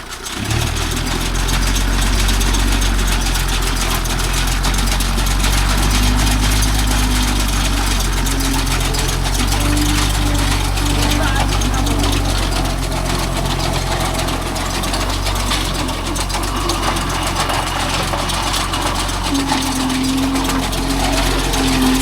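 A Kubota MU4501 tractor engine runs steadily at high revs while working with a baler, producing a loud, continuous mechanical drone with a low rumble and an intermittent whine, close by with no talk.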